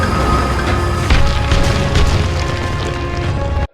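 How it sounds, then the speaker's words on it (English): Cartoon bomb explosions in an animated battle scene with tanks and crawler vehicles, heard as a dense, continuous roar of booms and bursts with several sharper impacts, loud and close, with no speech. "hitting them with some bombs"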